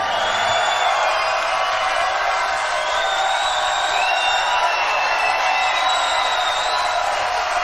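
Audience at a live stand-up comedy show cheering and whooping with steady applause, a dense continuous roar of crowd noise that stays loud throughout.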